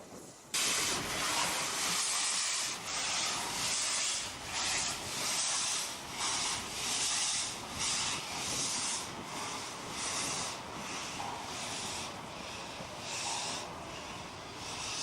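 A steam locomotive on Norway's Bergen Railway pulls into Voss station, a continuous loud hiss of escaping steam swelling and easing in rhythmic pulses, with the rumble of the train underneath.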